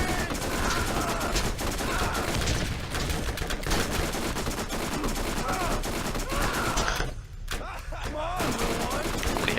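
Rapid, sustained submachine gun fire from the Borderlands 1 Secret Armory of General Knoxx add-on, loud and nearly continuous with a short break around the seventh second, amid other game sounds.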